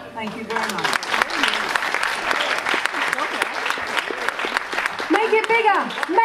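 Audience applause at a live performance, a dense patter of clapping hands sustained throughout, with voices and cheers rising over it near the start and end.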